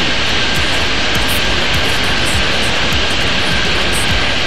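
Airliners taxi and take off at a busy Boston airport in the Airport Madness 3D game, a loud, continuous jet engine roar that holds steady with no voices.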